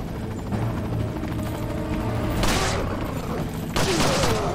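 Two loud gunshot bursts from the video game Resident Evil 4, each a sudden broadband crack with a decaying tail, spaced about a second apart over a low continuous game ambience.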